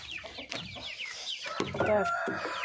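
Chicks and hens clucking and peeping together in a backyard coop, close and busy, with a brief voice now and then.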